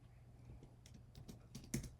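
Python code being typed on a computer keyboard: a quick run of faint, close key clicks with uneven rhythm, ending in a slightly firmer tap, over a low steady hum.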